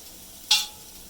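A crushed cardamom and cinnamon mix hits a hot pan for chicken curry, setting off one short, bright sizzle that flares and quickly fades against a quiet background.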